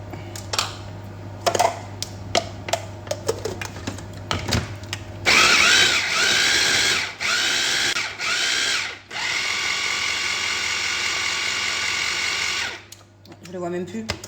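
A blender whirring through salmon in short bursts, a loud motor whine starting and stopping several times, preceded by clicks and handling noises while someone talks nearby.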